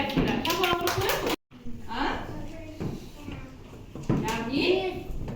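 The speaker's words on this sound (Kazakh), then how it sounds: "Шапалақ ұрып қоясың." Children clap their hands in a classroom farewell celebration for the first-grade alphabet book, with a cluster of quick claps up front, a short break, then more taps and claps mixed with a voice and an adult speaking.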